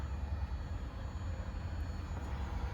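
A 2023 Toyota Crown Limited 2.5-liter hybrid sits with its engine off, giving a faint, steady low hum that drones evenly throughout with no talking.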